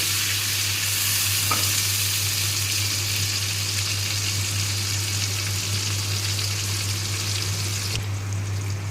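Tomato paste frying with soybean chunks in a pan makes a constant close sizzle and hiss, with a low steady hum beneath and a brief clink near the start, and no voices.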